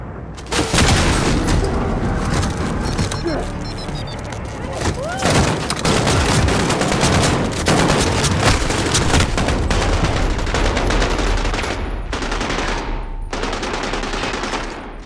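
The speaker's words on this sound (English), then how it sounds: "Shotgun." Rapid, dense gunfire from a Call of Duty: Modern Warfare game, loud and continuous, with sustained automatic bursts and booming blasts and a few brief gaps.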